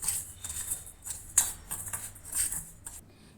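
A spoon scraping and clinking through ground pickle spices including kalonji in a bowl, light irregular metallic taps and scrapes close by, quiet with several sharper clicks.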